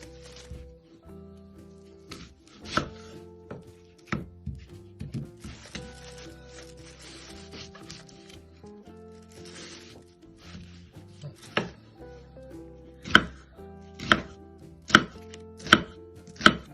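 A knife finely chops a yellow onion on a cutting board, producing irregular thuds at first that settle into sharp, evenly spaced chops toward the end, close and clear with no talking.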